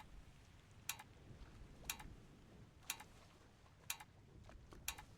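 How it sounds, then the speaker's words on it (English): Steady ticking in the video game Return of the Obra Dinn, five evenly spaced sharp clicks about one second apart over a soft rain-like hiss, with no talk. "What's that ticking?"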